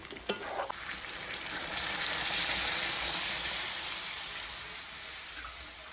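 Local chicken pieces for an Assamese halodhi ful curry, already fried, hiss and sizzle loudly in the pan as water goes in, a sharp crackle at first swelling into a steady frying roar before easing slightly.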